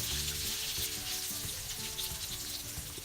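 Egg batter for rolled sausage eggs sizzles steadily in a hot pan, a dense, bright frying hiss that stays loud and even throughout with no talk over it.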